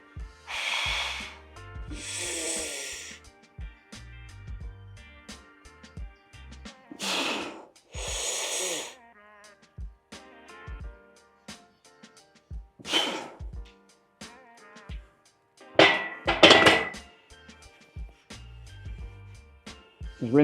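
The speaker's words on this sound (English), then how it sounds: "So now I'll start breathing in the way that I'll breathe in the actual working sets." Heavy, forceful breaths drawn in and pushed out before a strength training working set, bursts spaced irregularly between quiet pauses, close and alone with no talk.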